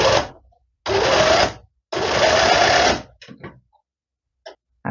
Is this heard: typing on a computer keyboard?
no